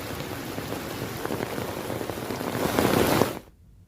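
Heavy monsoon rain in Dang district, Gujarat, falls in a dense, steady hiss that swells slightly louder near the end before cutting off abruptly.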